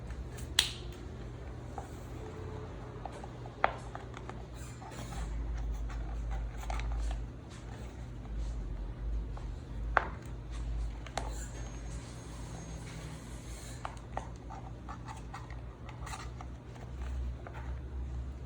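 Cutting a plastic pot holding a Phalaenopsis orchid in a bark and perlite mix, with sharp snipping clicks spread through the stretch over a steady low hum, some louder and nearer than others.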